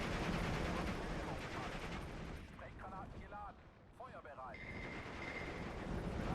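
Dense, continuous battlefield gunfire from guns and machine guns in the strategy game Steel Division 2, loud throughout with a brief dip mid-clip where a voice speaks over it.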